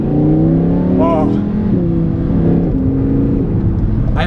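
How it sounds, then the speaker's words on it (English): The naturally aspirated V10 of an Audi R8 revving, heard from inside the car with a loud steady engine drone whose pitch rises and shifts through several gear changes while people talk over it. "the sound of this V10, the naturally aspirated V10, sounds good"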